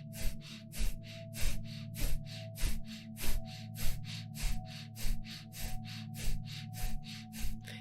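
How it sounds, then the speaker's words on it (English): Rapid, rhythmic puppy-like panting through the nose, a breath of fire exercise, with steady quick sniffing pulses close up over a low background hum, no talking. "just panting in and out through the nose with this breath of fire"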